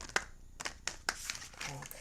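Oracle cards are shuffled by hand in short crinkling, flicking bursts, close and fairly quiet, several separate riffles in quick succession.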